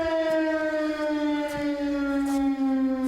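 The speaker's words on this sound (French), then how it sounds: "Quand la sirène sonne une fois, c'est un accident." A civil defense siren sounds loud and steady throughout, a sustained wailing tone with no voices over it.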